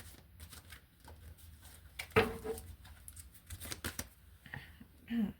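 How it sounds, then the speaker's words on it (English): Playing cards being shuffled by hand, a brief crisp riffle burst near the middle followed by lighter scattered card flicks and patters, fairly close and faint. "I am clearly shuffling these cards"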